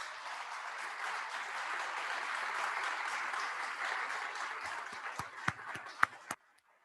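Sustained audience applause at a space program opening ceremony, steady broadband clapping that thins into a few loud, separate claps near the end.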